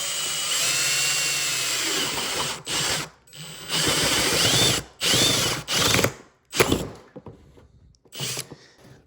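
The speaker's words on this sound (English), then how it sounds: "I'm gonna drill a hole right here in the side of this next to the switch button" A power drill bores a hole with a 3/4 inch paddle bit through the side of a plastic battery box beside the switch button, in loud grinding bursts that stop and restart several times.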